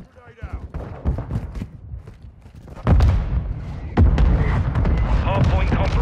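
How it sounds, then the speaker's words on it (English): Mortar impacts in Call of Duty: Modern Warfare II land as two heavy booms a second apart, each followed by rumbling battle noise, with voices speaking in between. "Friendly mortar strike inbound."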